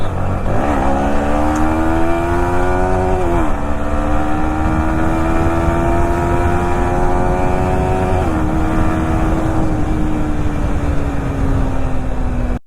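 A Yamaha MT-15 motorcycle runs with its exhaust removed, giving a loud, raw, close engine drone that climbs in pitch with a couple of revs and holds steady, with no talk.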